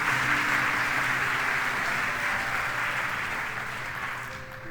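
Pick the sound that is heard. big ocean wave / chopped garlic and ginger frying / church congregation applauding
church congregation applauding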